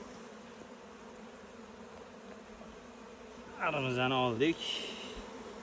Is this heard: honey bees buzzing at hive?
yes